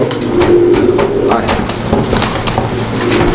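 Fancy pigeon kept in a show cage cooing softly in steady low calls, close by, over a busy background of faint chatter and ambient noise.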